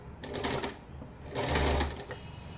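Sewing machine stitching satin fabric in two quick bursts of rapid mechanical whirring, close and clear with a short pause between runs.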